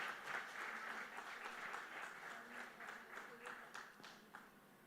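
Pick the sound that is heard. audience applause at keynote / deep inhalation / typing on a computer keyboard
audience applause at keynote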